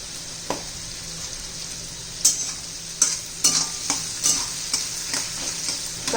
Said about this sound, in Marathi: कांदा छान परतून घ्यायचा आपल्याला